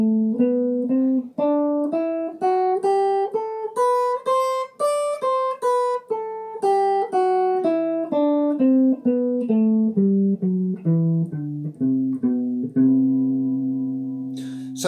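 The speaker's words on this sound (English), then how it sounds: "So if I was going to play all the notes within the whole scale shape, it would sound like this." A melodic instrument plays a scale in the Lydian mode, third position, in evenly spaced single notes that climb up and then come back down, ending on a held note, clear and close with no talking.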